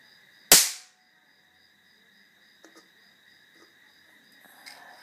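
A start capacitor discharges with a single sharp, very loud bang that decays quickly, followed by faint scattered clicks over a steady high insect-like drone.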